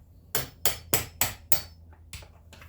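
Sharp hammer blows knocking the hinge pins out of an exterior door: five loud, evenly spaced strikes close by, then two lighter taps, with no talking.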